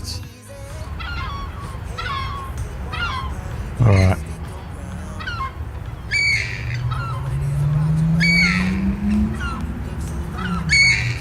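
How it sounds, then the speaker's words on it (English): Seagulls give repeated sharp squawks near a hovering DJI Mini 2 drone, whose faint rising whine runs underneath; someone speaks briefly between the calls. "Ducks don't seem bothered. It's really just those seagulls"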